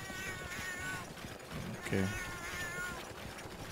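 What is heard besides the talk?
cat meowing in the video game Monster Hunter 3rd Portable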